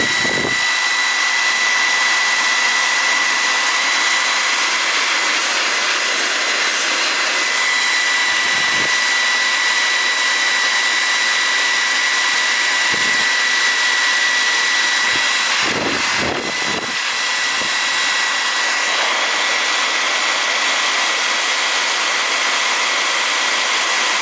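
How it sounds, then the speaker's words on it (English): A household hair dryer heats the adhesive on an iPhone, blowing with a loud, continuous airy whine and steady hum that runs unbroken, with a few faint handling bumps along the way. "hairdryer should do good."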